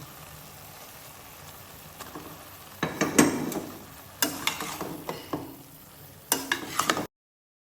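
Stalks stirred in hot oil with boal fish roe: a low sizzle of frying under several bursts of scraping and clattering from the stirring spoon in the pan, close and fairly loud.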